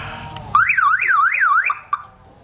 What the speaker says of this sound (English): Alarm still works, so that's that.